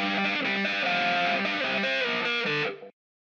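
Electric guitar playing a riff with doubling and short reverb, a steady distorted tone that stops abruptly near the end, no voices.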